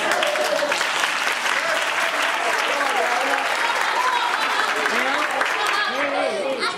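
Dense, steady audience applause fills a municipal council chamber during a youth session, loud and sustained throughout, with crowd voices and shouts rising through the clapping.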